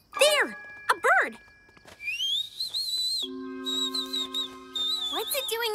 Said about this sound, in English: There! A bird!